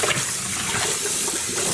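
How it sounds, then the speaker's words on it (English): Hot water runs continuously over dyed acrylic and polyester yarn during rinsing, a steady close splashing rush from a tap. "we are going to start rinsing with hot water."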